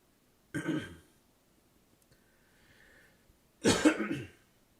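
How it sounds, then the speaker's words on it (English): Two separate coughs close to the microphone, a short one near the start and a harsher, louder one a few seconds later, with quiet between. "You're welcome for coughing into the mic"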